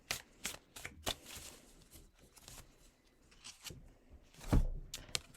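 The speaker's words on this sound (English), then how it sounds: "I'll take a card now for the Cosmic Sisters, just a generic week ahead card." Tarot cards being shuffled and drawn close by, a run of quiet papery riffles and flicks with soft taps, ending in a sharper slap near the end; no voices.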